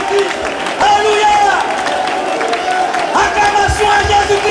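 A church congregation clapping and cheering in acclamation of Jesus Christ, a dense, loud wall of applause and voices with shouting and speech over it throughout.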